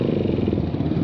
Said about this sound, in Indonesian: Ini motornya nggak tahu lagi kenapa mati-mati terus, nggak mau langsam